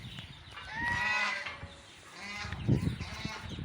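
Fowl on a poultry farm raising both fancy and desi breeds give out loud honking, goose-like calls in two bursts, close by over a noisy farmyard background.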